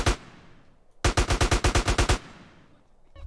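An AK-47 in GTA San Andreas fires one loud close shot, then a rapid burst of about ten rounds, each followed by a fading echo.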